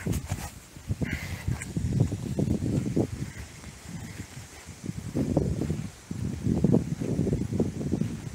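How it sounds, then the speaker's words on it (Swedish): Gusty wind buffets the microphone in low rumbling bursts, rising and falling over several seconds outdoors at an abandoned cemetery in Krokek, with no voices. "synd att det blåser."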